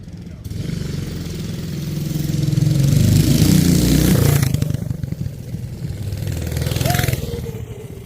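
A small minibike engine drones steadily nearby, rising and falling in pitch as it revs, with a brief voice near the end.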